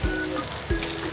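Bay leaves and whole garam masala drop into hot oil for a Bengali pineapple prawn dish, giving two short crackling bursts of sizzle about half a second apart over a constant frying hiss.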